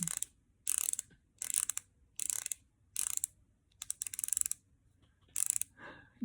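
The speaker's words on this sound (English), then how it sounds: "Turning the base, clicking." Repeated ratcheting clicks from twisting the base of a concealer pen, close and crisp, coming in about eight short bursts with brief quiet gaps between them.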